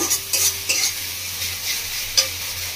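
Fish masala with salt is stir-fried in a pan, with a steady sizzle under several sharp scrapes and clinks of a spatula or spoon against the metal, close by and spaced irregularly, with no voices.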